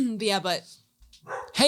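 A dog gives a couple of quick barks close up, followed by a short pause and then a person speaking.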